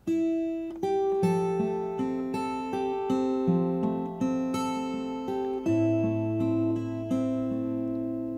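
Fingerstyle acoustic guitar playing the chorus of a song: a clean, steady run of plucked single notes and bass tones ringing into each other at a moderate pace, played alone with no voice.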